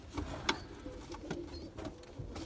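Crested pigeons coo softly at moderate distance, a few low rounded calls spread across a short stretch with faint background rustle and no talking.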